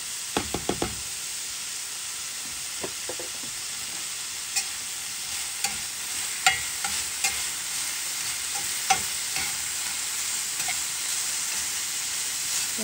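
Chopped green pepper and onion frying in a pan for a breakfast casserole, a steady hiss of sizzling with a few sharp spatula knocks early on and scattered scrapes throughout, no speech.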